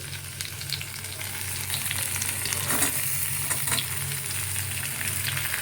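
Eggplant, with pumpkin to follow, fries in a pan with a soft steady sizzle while a utensil stirs and scrapes now and then, close and quiet, without talk.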